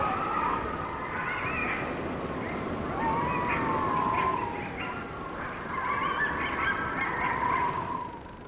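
Honking and calling of swans or ducks among mountain lakes and rivers of the high Rockies, a steady chorus of overlapping calls at moderate distance with no speech.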